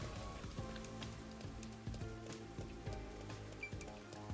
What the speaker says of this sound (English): The rain does weird things to your eyes.